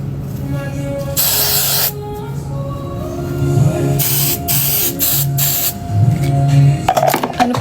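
A makeup spray is misted during a quick beauty routine, giving two long hissing bursts followed by several shorter puffs, close and loud over a faint steady background tone.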